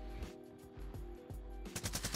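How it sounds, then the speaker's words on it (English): Gunfire in Call of Duty: Warzone erupting from behind: several sharp automatic bursts and single shots spread across a steady game background, growing denser and louder toward the end. "we're getting shot at from behind too"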